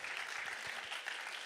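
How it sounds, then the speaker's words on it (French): Applause from an audience at an awards ceremony, greeting a project; steady, fairly faint clapping that fills the short stretch evenly without letting up. "Alors on peut applaudir"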